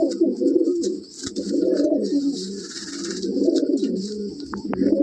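A Madrasi pigeon in a loft coos steadily and close up, its low, throaty rolling calls repeating in waves through the whole stretch, with faint higher chirps from other birds in the background.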